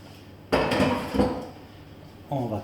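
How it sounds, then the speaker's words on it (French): Spoon stirring an eggplant vegan omelette mixture in a bowl, a few close scraping and clinking strokes in two bursts, with a voice speaking briefly at the end. "On va touiller comme ceci."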